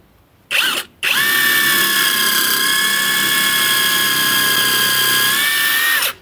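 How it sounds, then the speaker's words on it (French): Cordless electric impact wrench rated 650 Nm boring into an old oak beam: a short whirring burst, a brief pause, then a loud, steady high-pitched drilling whine held for about five seconds before cutting off. "maintenant on va couper du bois, enfin percer du bois"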